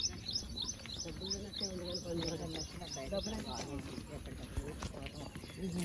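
Repeated high bird chirps tick along through the clip over a busy background of voices and rhythmic clopping hoofbeats.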